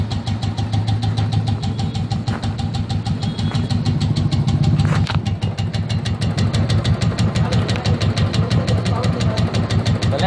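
A Royal Enfield motorcycle engine idles steadily with an abnormal rapid ticking noise riding on its low thumping rhythm, loud and close throughout with no talk.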